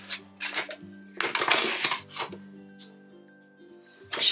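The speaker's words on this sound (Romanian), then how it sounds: "Amestecăm puțin" Spoon clinking against a bowl while a sugar and flour mixture for potato bread is stirred, several bursts of scraping and clinks with brief pauses, close and fairly quiet.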